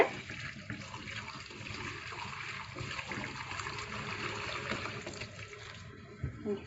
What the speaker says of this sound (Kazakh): қайнатып алған сүтімізді жаңағы ақтәкі төсек қойған тордың үстіне құямыз